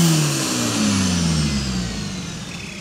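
Joma Racing coupe drag car making about 1000 horsepower at a drag racing event, its engine revving hard nearby with a falling, sweeping tone as it passes.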